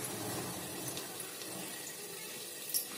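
Water pours steadily into a pan of cooking vegetables with an even, continuous splashing rush, close and fairly quiet, with no voices.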